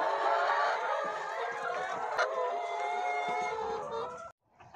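A flock of around 130 chickens on an organic egg farm clucking and squawking together, a busy, fairly close chorus that carries on steadily before cutting off abruptly.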